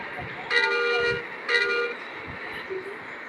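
Car horn in a driving video game, two short honks in quick succession, fairly loud and close, over a faint background of game noise and low engine rumble.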